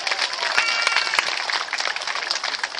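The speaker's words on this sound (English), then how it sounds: "Round of applause, please, for the sea lions" A crowd at a sea lion show at Chessington claps for the performing sea lions, a loud, dense burst of many hands applauding close to the microphone.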